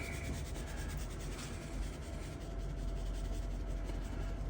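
Adobo seasoning being rubbed by hand into olive-oiled pork chops, a steady close scraping and rubbing texture that runs throughout without a break.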